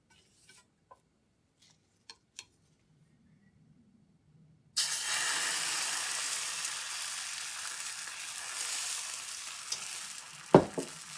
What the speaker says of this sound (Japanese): 予熱して油をひいて油膜を作ってから卵を入れる。